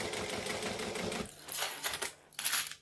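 A sewing machine stitches thick backpack fabric at a slow pace, giving a close mechanical whirring that runs steadily and then breaks into short, separate bursts with pauses between them.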